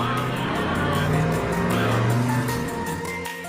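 A car drives off unmanned in a scene from an Andy Lau romantic film, with a loud, continuous engine roar and tire noise filling the whole stretch before easing slightly at the end.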